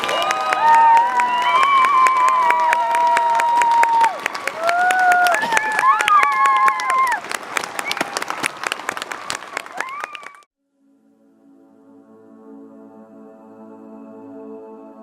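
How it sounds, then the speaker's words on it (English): A crowd applauds loudly for honored service members at a Mount Rushmore race event, dense sustained clapping with a voice over it that cuts off sharply, followed by quieter background sound. "let's show them how we feel about them with another round of heartfelt applause"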